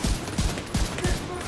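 M1A rifle shots in The Division 2 thump at a steady pace, about five deep reports spaced roughly a third of a second apart over a busy, noisy background.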